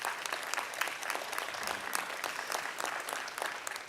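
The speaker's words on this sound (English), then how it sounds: "a round of applause to our staff who came in on vacation" Attendees at a school board swearing-in and reorganization meeting give the staff a round of applause, a steady, moderately distant patter of many hands with individual claps standing out.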